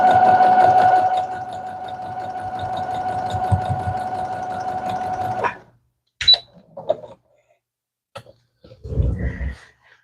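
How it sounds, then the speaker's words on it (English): A sewing machine runs steadily for several seconds while stitching the last seams of a quilt border, then stops, followed by a few scattered clicks and handling sounds; no talk. "last couple stitches on this border"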